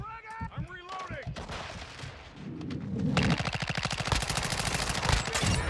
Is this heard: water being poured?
no